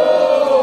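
A crowd at a rap battle in Brazil roars and shouts loudly and steadily, one sustained burst of cheering noise.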